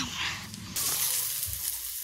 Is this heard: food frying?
yes